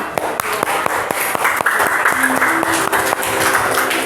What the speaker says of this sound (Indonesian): Kita beri aplaus buat teman kalian.